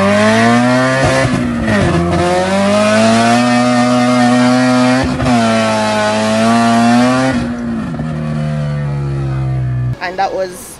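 A loud, high-revving Nissan B13 engine with a nitro-fed SR20 climbs in pitch, drops as it shifts, then climbs again, passing through gears one to three before easing off near the end.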